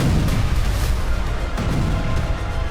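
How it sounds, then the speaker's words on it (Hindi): Explosions and artillery fire in the war zone around Avdiivka, Ukraine, heard as a dense, loud, continuous rumble with heavy low booms and no speech over it. "एक भी इमारत सलामत नहीं है, लेकिन अब भी यहां धमाके हो रहे हैं।"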